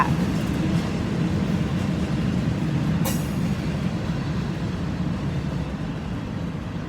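Train at a Thai railway station, a loud continuous rumble of rolling rail cars with a short sharp squeal or clank midway, steady throughout and without speech.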